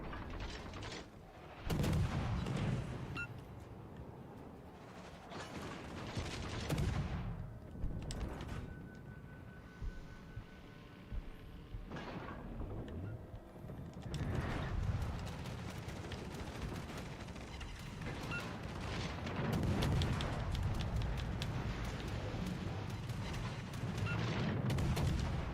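Battleship gunfire in the World of Warships: Legends naval game comes as repeated heavy booming salvos with rumbling decays, spaced irregularly over a continuous low background of game sound.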